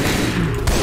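Assault rifle gunfire in the Left 4 Dead 2 video game, a short dense burst of shots blended into continuous game noise, with a heavier thump near the end.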